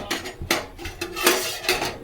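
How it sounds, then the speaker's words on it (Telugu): A metal cooking pot is set down on a kitchen stove for an eggplant curry, giving several close clanks and scrapes of metal on metal. "ఇలాగా గిన్నె అయితే పెట్టేసుకున్నాను."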